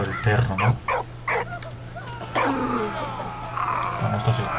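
A dog in the video game Valiant Hearts gives a run of short barks and yips, then softer whimpering whines over steady game ambience, with a few closing yelps.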